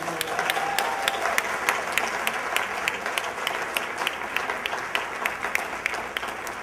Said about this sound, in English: A big round of applause for Nora Gillen.